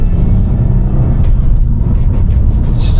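Subaru WRX all-wheel drive rolling down a small gravel road in comfort mode, heard from inside as a steady loud low rumble of engine and tyre noise with faint crunching grit, no talking.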